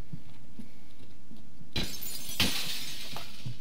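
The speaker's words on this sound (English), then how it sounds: "so broke those windows" Glass windows shatter in Escape from Tarkov with two sharp bursts of breaking glass in quick succession, loud and close, followed by tinkling debris over quiet background game noise.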